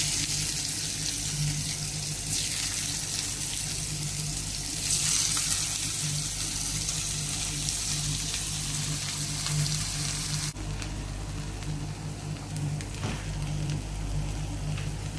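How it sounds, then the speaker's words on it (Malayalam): Pieces of bitter gourd (pavakka) fry in hot oil, giving a continuous, even sizzling hiss that stays fairly loud and steady throughout, with no voices. "എണ്ണ ചൂടായി വന്നിട്ടുണ്ട്. അതിലേക്ക് നമുക്ക് ഇതേപോലെ എടുത്തിടാം ഓരോ പാവയ്ക്കയും."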